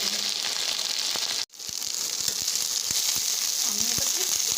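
Saag greens fry in a pan with a steady close sizzle and crackle, broken by one brief drop-out, with occasional small taps and stirring clicks.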